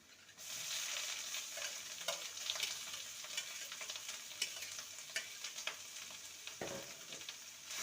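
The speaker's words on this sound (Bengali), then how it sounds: "এবারে দিয়ে দেবো গ্রেট করা কাঁকরোল" Grated teasel gourd goes into a pan with garlic, dried chilli and poppy seeds, frying with a soft, steady sizzle and a few light ticks and scrapes, fairly faint overall.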